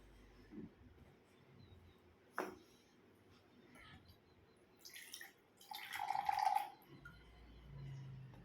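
Water poured onto a plate beside a lit candle for a school combustion experiment, heard as a short faint splashing pour after a few soft clinks and taps in a quiet room.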